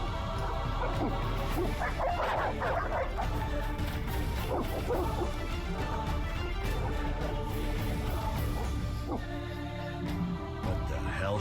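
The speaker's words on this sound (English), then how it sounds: "They're evil dogs. Run!" Evil dogs in the video game The Witcher bark and yelp repeatedly over a dense, loud game soundtrack and ambience, with some crashing noises mixed in.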